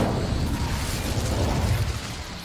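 Incendio fire spell in Hogwarts Legacy, a sustained roaring whoosh of flame with dense crackling burst, loud and continuous before tapering slightly at the end, no speech.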